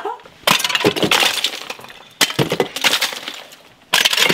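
Heavy chunks of snow knocked off the roof of a bus conversion during a snowstorm land in three loud, crunching crashes, each followed by a scattered fading tail.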